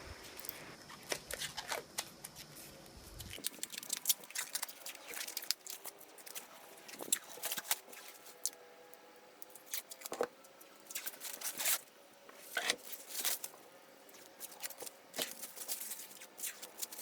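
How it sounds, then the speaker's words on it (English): Protective plastic film being peeled off a laminate furniture panel after edge banding, giving crackly, rustling tears and scrapes that come in bursts across the stretch, close and moderately loud, with no talking. "the last step after putting on the edge banding is to peel off the protective cover"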